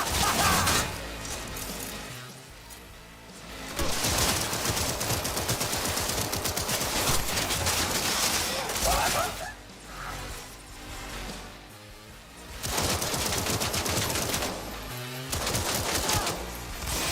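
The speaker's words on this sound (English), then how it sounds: "Gotta slow my shooting down." Video game gunfire from the player's own weapon: repeated loud bursts of rapid shots with short pauses between volleys, close and harsh, over a steady background of game noise.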